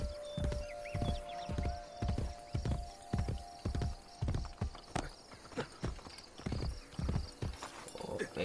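A stolen video-game horse trots with steady, evenly spaced hoof clops, close and crisp for several seconds, while a faint whinny rises early on.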